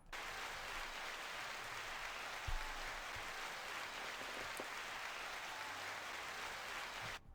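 Canned applause sound effect triggered from a Zoom PodTrak P4 podcast recorder: a steady, dense wash of clapping that holds evenly for about seven seconds, moderately quiet and alone without talk.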